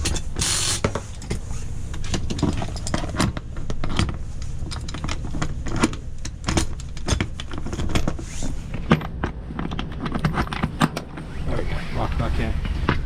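A BraunAbility UVL wheelchair lift on a 2020 GMC conversion van retracts automatically into the vehicle, producing a steady mechanical whirring with repeated clicks and creaks throughout, close by and fairly loud.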